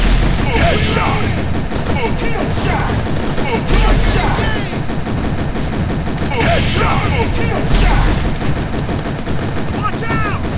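Gunfire from the Commando Army mobile shooter game: dense, continuous rapid-fire bursts and loud shots over a constant game soundtrack, with occasional heavier impacts and brief game voice callouts.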